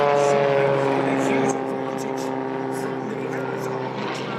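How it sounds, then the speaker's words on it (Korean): Air race airplane flying past a crowd, a loud steady propeller engine drone with cheering and voices underneath throughout. "한 비행기가 등장하자 환호성이 터져 나왔습니다."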